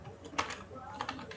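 Keys pressed on a computer keyboard while typing in a word processor, a few soft, sparse clicks close up against faint room noise.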